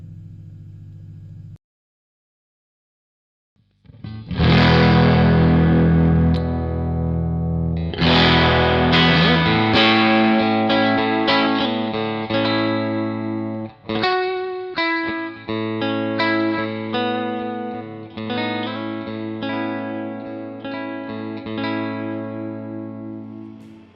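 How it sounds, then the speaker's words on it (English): Fender Hot Rod Deluxe guitar amp turned all the way up, a loud distorted electric guitar played in ringing chords and picked phrases with sustained overdriven tone, after a brief silence, with no talk. "let's actually dime a Hot Rod Deluxe and see what it sounds like"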